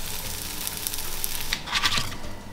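Buttered food frying in a pan, giving a steady, close hiss of sizzling with a few crackling pops.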